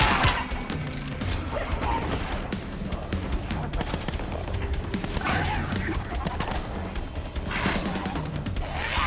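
Turret gunfire in Black Ops 7 Zombies, rapid crackling bursts of shots mixed with game clutter and impacts, steady and busy over several seconds, with a voice talking in the background.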